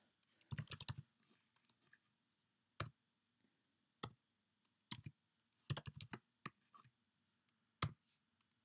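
A computer keyboard is typed on in sparse bursts and single clicks, quiet and close, with short pauses between keystrokes and no voices.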